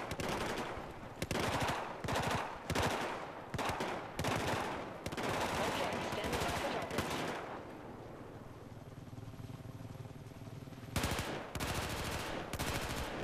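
Machine gun fire in Battlefield 4: rapid bursts of automatic shots in several sharp volleys, a pause with lower rumbling, then another burst near the end, loud and close.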